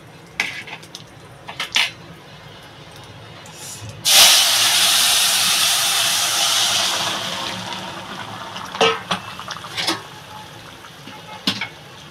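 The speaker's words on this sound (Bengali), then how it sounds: "এবার তরকারিটা ঢেলে দেবো" Prawn and pumpkin-greens curry poured into a hot pan, bursting into a loud hiss of steam that fades slowly, set between scattered clinks of utensils and pan in a home kitchen.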